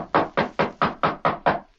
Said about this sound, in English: Ezra knocked at the door